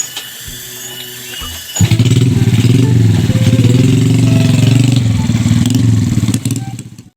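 A motorcycle engine rumbles loud and close for several seconds after a quieter start, its mid-range drone swelling and holding steady before easing off at the end, with no talk over it.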